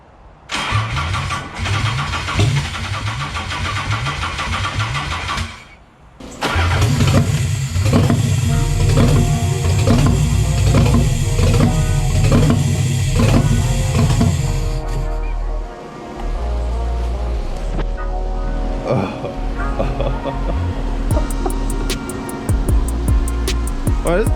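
Abandoned Nissan 300ZX cranking and firing up for the first time, engine catching after a brief pause and settling into a loud, lumpy, uneven idle with a cam-like lope; a voice speaks briefly near the end.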